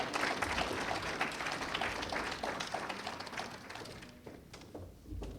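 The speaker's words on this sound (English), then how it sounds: "Please give them a round of applause." Audience applause greeting two guests brought up on stage at an event, a dense wash of clapping that starts loud and gradually thins out toward the end.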